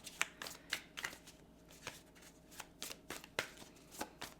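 Tarot cards riffle and slap softly in a quick, irregular run of shuffling and drawing, close and quiet, with no talking.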